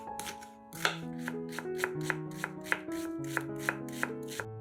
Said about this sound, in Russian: Одну луковицу нарезаем кубиками